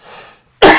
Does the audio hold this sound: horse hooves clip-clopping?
no